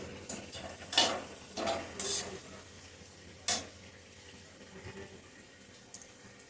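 Ground cumin frying in a pan while a spoon stirs it, giving a few scattered scrapes and clatters over a faint, low sizzle.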